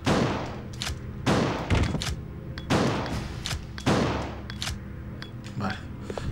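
Gunshots fire in the PS2 game Resident Evil Code Veronica X, four or five loud, sharp blasts at regular intervals with resonant tails, heard alone between shots.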